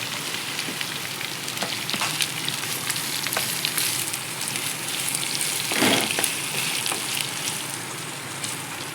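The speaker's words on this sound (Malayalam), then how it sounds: "ഇതിലേക്ക് അരിഞ്ഞു വെച്ചിരിക്കുന്ന സവാള ചേർത്ത് നന്നായിട്ട് വഴറ്റി കൊടുക്കാം." Chopped onions sauté in oil in a pan, giving a dense, continuous close sizzle with occasional spatula scrapes and a brief louder stir near the end, no voices over it.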